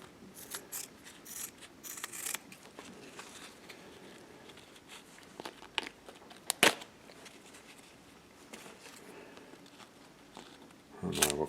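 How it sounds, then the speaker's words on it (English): Scissors snip through a layered piece of craft material, giving a few scattered, close cuts with rustling and handling noises between them and one sharper snip near the end. "I will cut off the clean piece, trim it up here to where it looks decent."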